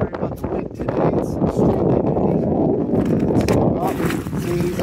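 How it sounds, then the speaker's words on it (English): Strong outdoor wind buffets the microphone in a loud, continuous low rumble at a lakeside or boating spot where a Yorkshire terrier is about to fetch. A voice talks faintly underneath. "Sorry about the wind today, it's"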